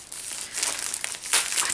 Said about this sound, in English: It's gonna be some rustling.